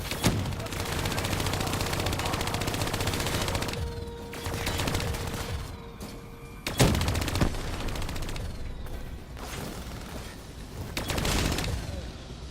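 Call of Duty Black Ops III campaign gunfire, sustained loud bursts of automatic weapons and heavy shooting with booming impacts, continuous and dense throughout with brief dips between volleys.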